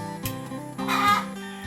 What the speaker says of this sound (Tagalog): Ganyang manok na maingay, yan yung palatandaan na nangitlog na po yung manok.